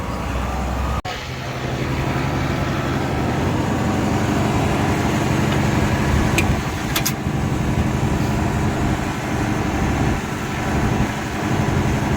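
An International 1086 tractor engine runs steadily and fairly close as the tractor backs up to a hay rake on a farm, a continuous diesel rumble with a sharp clank near the start.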